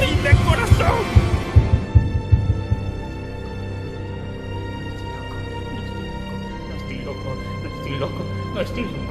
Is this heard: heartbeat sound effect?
yes